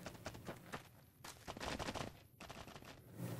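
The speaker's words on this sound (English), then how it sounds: "Is someone shooting at me?" Rapid gunfire in Fallout: New Vegas, a dense volley of sharp cracks in quick bursts with brief pauses between, fairly close and loud throughout.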